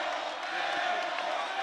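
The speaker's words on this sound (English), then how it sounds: "That was an air ball, as you can hear from the crowd." Basketball crowd in a high school boys game reacting to an air ball, a broad sustained murmur and shouting from a gym audience, moderately loud and steady.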